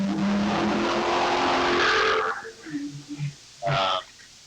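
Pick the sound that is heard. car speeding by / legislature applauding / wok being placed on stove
car speeding by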